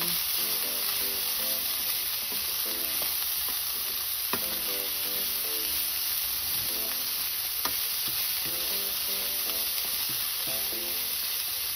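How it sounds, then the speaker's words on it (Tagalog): Onion sautéing in a pan for Bicol express, a constant even sizzle with occasional stirring scrapes and a recurring tonal pattern underneath, with no one speaking. "sinunod ko naman nilagay yung sibuyas. Gisa-gisa lang."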